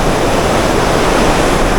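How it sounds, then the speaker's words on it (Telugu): Snowmelt water from the mountains rushes and roars near Anini in Arunachal Pradesh, a steady, loud broadband wash that holds at full strength without a break, with no voices over it. "మౌంటైన్ కరిగి వచ్చిన వాటర్ మొత్తం ఇది"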